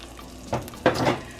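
Eggs mixed with chopped green onions hit a hot pan for a steak and egg burrito, giving two short bursts of sizzle close by over a quiet background.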